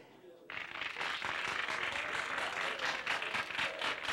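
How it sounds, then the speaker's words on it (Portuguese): Studio audience applause for a sertanejo music duo on a regional TV program, a sustained burst of steady clapping that starts abruptly and continues evenly throughout, fairly loud and close. "E essa dupla merece muito um aplauso da gente, muito carinho."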